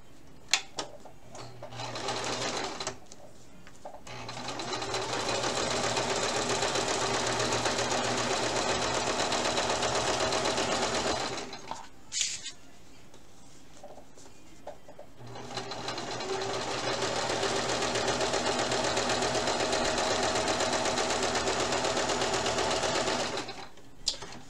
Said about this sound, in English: I'm just going to go ahead and sew on both of them just a quick line right across that top.